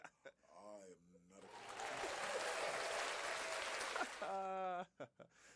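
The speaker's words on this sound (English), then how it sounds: "Just a little happy applause for Mr. Wolf." A group gives Mr. Wolf a burst of happy applause that swells into a dense wash of clapping for a few seconds, with a voice speaking briefly before and after it.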